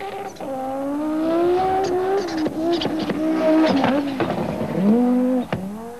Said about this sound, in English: Audi Quattro Sport and official works representative Walter Rowell.